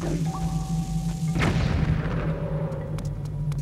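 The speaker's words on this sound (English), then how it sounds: "Hopefully the bomb can get them." Bomb explosion in the video game Zelda Skyward Sword, a single booming blast that bursts out abruptly and rolls away into a rumble over a steady low game hum and a held tone.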